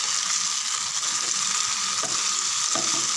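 Tomatoes, curry leaves and onions sautéing in a pan for chicken gravy, giving a steady, close sizzle with a few soft scrapes from stirring near the end.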